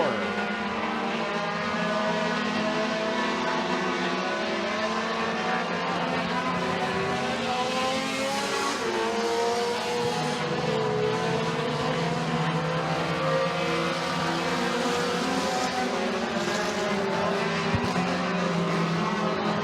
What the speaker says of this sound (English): Major lap traffic in play here as Trevor Putt has to split 2 cars